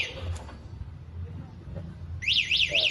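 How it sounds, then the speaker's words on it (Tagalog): An electric bike's anti-theft alarm starts near the end, a loud repeating rising-and-falling warble in three quick cycles, over steady low background rumble and faint voices. "Ito naman po yung alarm niya."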